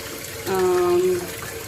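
Seitan dough is rinsed under a running kitchen tap, giving a steady close hiss of flowing water with a brief tonal whine partway through.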